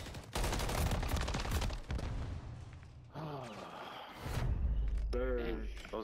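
Bursts of rapid gunfire and explosions in Call of Duty Modern Warfare 3 ranked multiplayer crackle loudly and close, with a voice talking over the shooting.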